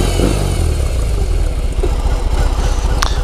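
A BMW R18 First Edition motorcycle with its big boxer engine running close by, a loud, deep, throbbing idle with pulsing firing beats that swells slightly as the throttle is blipped.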